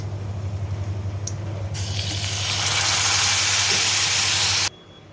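Mustard seeds, cumin, asafoetida, dried chillies and curry leaves hit a hot pan, a low hum giving way to a loud, rising hiss of sizzling that cuts off abruptly near the end.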